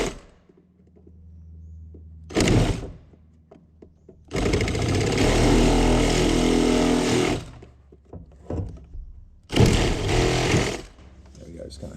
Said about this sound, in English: this is where the little M12 hacksaw comes into play here